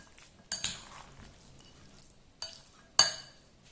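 Cottage cheese filling with honey, walnuts and pomegranate seeds tossed in a bowl, heard as a few sharp utensil clinks and scrapes against the bowl, close and moderately loud, with quiet stirring between them.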